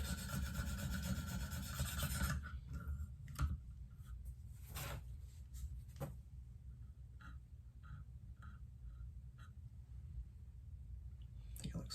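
A KME sharpening stone grinds briefly against a Benchmade Steep Country knife, then gives way to quieter, intermittent scrapes and taps at close range, with a voice speaking over parts of it.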